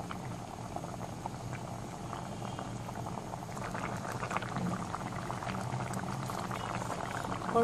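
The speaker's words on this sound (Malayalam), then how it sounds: "ഇനി ഇതിലേക്ക് തേങ്ങ ചേർക്കാം ഇനി ഇതൊന്ന് തിളപ്പിക്കാം" Okra and coconut curry boiling in a pot, steady close bubbling that grows slightly louder toward the end, no voices.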